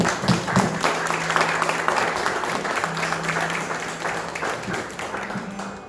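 A church congregation at an evening worship service applauds together, sustained crowd clapping with a faint held musical tone beneath, steady and full, tapering gently near the end.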